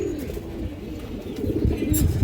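A pair of black Mushaldom pigeons coo in low, throaty rolling calls, close by and moderately loud, with some background rustle.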